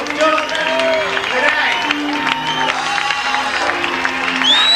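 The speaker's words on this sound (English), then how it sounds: "How about a nice round of applause?" A crowd applauds and cheers, with steady clapping and whoops filling the room, loud and close, with voices mixed into the noise.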